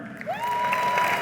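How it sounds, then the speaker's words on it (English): A keynote crowd in Washington DC claps in a brief, dense burst, with a sharp rising whistle cutting through near the start and holding steady over the clapping. "let's clap it up for them"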